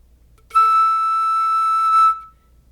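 A flute plays one clear, steady high note, held for about one and a half seconds before stopping cleanly.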